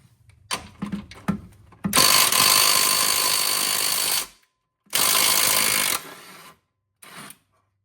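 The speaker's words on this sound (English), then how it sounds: "Finish removing this 17mm bolt" A wrench or ratchet works loose the 17mm bolt on a Subaru inner forward control arm, with a few clicks first, then two long, loud bursts of mechanical whirring separated by silence, and a final short rattle.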